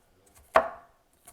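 A knife chops cabbage on a cutting board for dumpling filling. One sharp, close thud is heard, then a couple of faint taps.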